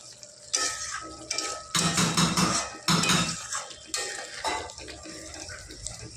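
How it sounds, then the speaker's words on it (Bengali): Spice paste being stir-fried for a fish-bone curry, heard as close scraping and clattering of a spatula against the pan in several loud bursts with short quiet gaps between them. "মামনি মশলাটা ভালো করে কষিয়ে নিচ্ছে"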